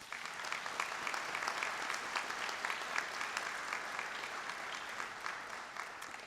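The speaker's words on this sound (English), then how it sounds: "Could you please give them a round of applause?" Sustained audience applause fills a university faculty and staff convocation, dense steady clapping from a large crowd throughout, loud and unbroken with no speech over it.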